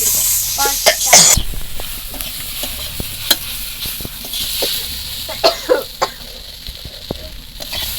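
A spice paste with plenty of chili powder is stirred and fried in a pan for a river-fish curry with green tomato. A steady sizzle runs under repeated scraping strokes of the spoon, close and fairly loud, with no speech.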